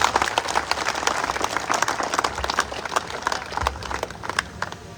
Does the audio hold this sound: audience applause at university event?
yes